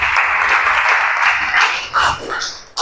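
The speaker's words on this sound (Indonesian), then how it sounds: "Ya, kita kasih aplaus yang meriah untuk kelompok 4 terlebih dahulu." Lively applause for a student group at a classroom presentation, a dense, close burst of clapping that thins out toward the end.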